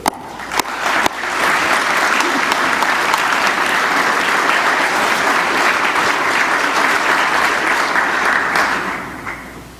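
An audience at a journalism symposium applauds steadily to welcome a speaker, a dense, sustained clapping that swells quickly and holds for about eight seconds before fading.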